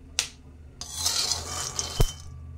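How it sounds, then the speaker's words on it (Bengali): Peanuts dry-roasting in a pan are stirred with a utensil, giving a few sharp metallic clinks and a brief rattling scrape of nuts against the pan, close and alone. "তো বাদামটা অনেকটা ভাজা হয়ে এসছে"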